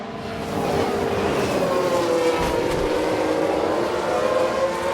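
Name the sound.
race cars after a multi-car collision, video game F1 Manager 22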